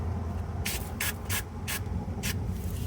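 Five short, sharp aerosol bursts of brake cleaner hiss onto a car wheel cylinder in an uneven rhythm over a low background hum, each spray lasting a fraction of a second.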